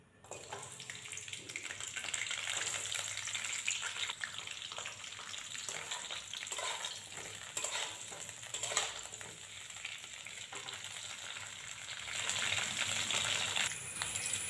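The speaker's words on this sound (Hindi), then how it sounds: "तो गोभी फ्राई हो चुका है" Cauliflower fries in hot oil in a kadhai, giving a steady, hissing sizzle with faint clatters of stirring, continuous and close throughout.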